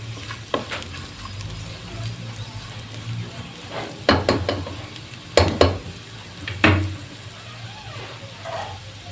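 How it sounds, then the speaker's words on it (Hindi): Spices fry in a pan for white pasta with a steady sizzle, broken by several sharp clinks and scrapes of a utensil stirring against the pan. "थोड़ा सा हम इसमें भूनेंगे मसालों को"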